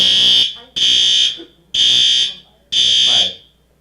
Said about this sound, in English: All right, well, that's a fire alarm